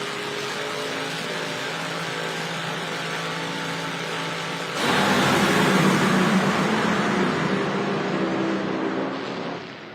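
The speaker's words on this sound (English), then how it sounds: "One of them's going to bring the RPMs up." Two drag racing car engines at the strip, one revving up while the other sits at idle, give a loud, steady, rough roar that swells midway as the revs climb and then holds before easing off.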